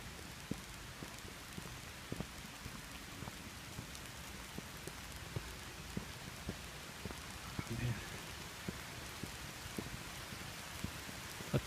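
Steady rain pours onto tree leaves and the ground along a river trail, a dense continuous patter with scattered sharper drops standing out close by.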